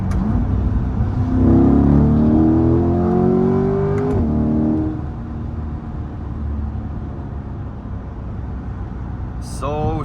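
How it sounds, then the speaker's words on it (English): A Chevrolet C8 Corvette drops a couple of gears on a country road, its engine revving up in a loud rising blip, then settling back to a lower rumble as someone talks over the drive. "Let me drop a couple gears here"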